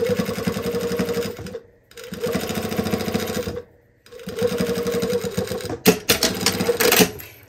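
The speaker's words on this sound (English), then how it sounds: "I have my zipper foot on, so I'm sewing pretty close to the teeth." A sewing machine with a zipper foot stitches close to zipper teeth on a pullover in steady rapid bursts, pausing twice briefly, with a few sharp clicks and knocks near the end.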